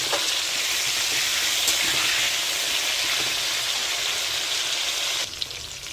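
Cauliflower florets and potatoes fry in hot oil in a kadai, giving a steady, loud sizzle throughout with faint scrapes of stirring and a slight drop in level near the end.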